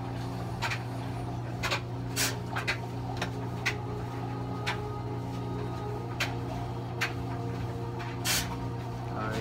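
A steady low mechanical hum runs throughout, like a clothes dryer tumbling in another room, with scattered soft clicks and knocks on top.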